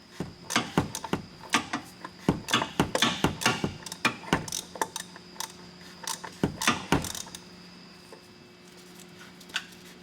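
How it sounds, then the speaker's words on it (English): A wrench working loose the oil filter housing on a Porsche Cayenne 4.8L V8, a close series of sharp ratcheting clicks and metallic knocks in irregular bursts, fading to a few isolated taps toward the end, no talk. "we can go ahead and remove that with a 36 millimeter socket or a wrench"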